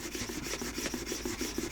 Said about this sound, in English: you're just going to rub that yarn in that one spot quite a few times